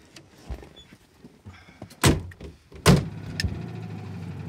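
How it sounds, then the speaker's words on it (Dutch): Car doors open and slam shut twice with loud thuds, followed by the low idle hum of a small car engine starting up, heard close by and without talk before setting off for a drive in the countryside. "Zullen we dan in de auto stappen en dan in mijn eentje op pad richting Aardenburg rijden?"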